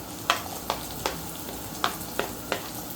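Onions and garlic fry in a pan with a steady soft sizzle, punctuated by about six sharp scraping taps of a utensil spaced roughly evenly across a few seconds.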